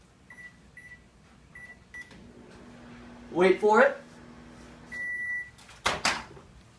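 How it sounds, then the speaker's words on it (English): A microwave oven heating soup makes intermittent beeps as it is set, a low hum while it runs, then a door clunk and a final chime, with brief talking in between. "I'll set the microwave for 1:20."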